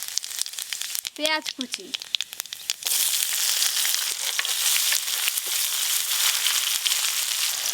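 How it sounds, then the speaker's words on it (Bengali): Whole cumin and bay leaves sizzle loudly in hot oil for aloo dum. Someone speaks briefly before a sudden, steady crackling hiss rises and fills the rest of the clip. "আজকে আলুর দমে ফোড়নে দেব গোটা জিরে আর তেজপাতা"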